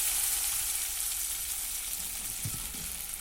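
Gourd leaf rolls coated in batter frying in hot oil, a steady close hiss and crackle that holds evenly throughout, with a couple of faint low knocks near the end.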